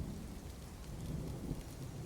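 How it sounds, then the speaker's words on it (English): Rain and thunder in the video game Dwarf Fortress, a continuous soft hiss of rainfall over a low rumbling thunder bed, faint and steady with no speech. "It's raining."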